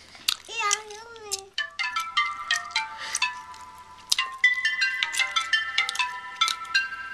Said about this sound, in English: these are the ringers that were already programmed in my phone